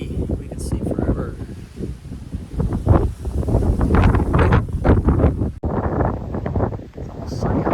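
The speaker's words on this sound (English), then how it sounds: "It's windy." Strong gusts roar and buffet across an open hiking trail, surging and easing in loud, uneven waves with heavy rumble close up.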